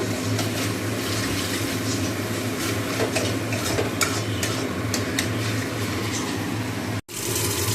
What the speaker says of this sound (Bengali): এগুলো করছি সর্ষে বাটা দিয়ে একদম শুকনো শুকনো করে করব